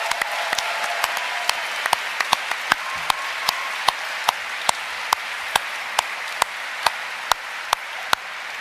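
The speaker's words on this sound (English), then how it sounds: "A big round of applause for Pete McConnell." A seated audience at a PAX Prime 2014 Grim Fandango panel claps steadily for a composer, an even wash of applause from a large indoor crowd with sharp individual claps standing out near the front.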